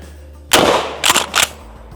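Cannon blasts during an optic torture test aimed at a TV target: one loud sharp boom with a long rumbling tail, then two more quick bursts close together, near and loud.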